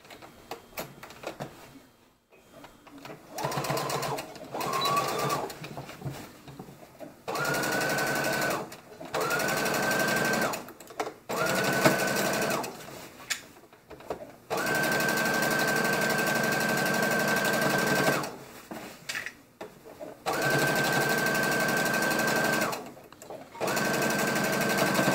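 A sewing machine stitches the waistband of homemade high-waisted shorts, running in steady whirring bursts of a few seconds each, close and loud, separated by brief pauses and quieter handling sounds.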